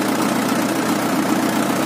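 Farm tractor engine idling on a road, a steady low continuous rumble with a dense, even drone and no talk over it.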